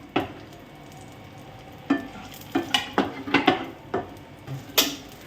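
Raisins fry in a pan over a low flame, with a quiet sizzle under a series of sharp spoon scrapes and knocks against the pan that come in quick bursts, and no voice.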